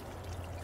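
Water poured to dilute neem seed meal fertilizer gives a brief, steady splashing stream, close and continuous, with no talk.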